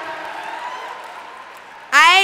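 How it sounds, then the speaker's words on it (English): An audience at the Power Shift 2013 gathering in Pittsburgh, Pennsylvania applauds at the end of its second day, a broad wash of clapping that slowly fades before a voice begins speaking. "give yourselves a huge round of applause for finishing day 2 of Power Shift"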